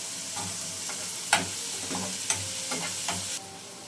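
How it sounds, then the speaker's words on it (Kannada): Onions and curry leaves fry in hot oil for a masala curry, a steady quiet sizzle broken by a few sharp stirring scrapes and clicks, with no voices. "ಈರುಳ್ಳಿ ಎಲ್ಲ ಚೆನ್ನಾಗಿ ಫ್ರೈ ಆಗಬೇಕು. ಕರಿಬೇವು ಸೇರಿಸ್ಕೊತಾ ಇದ್ದೀವಿ"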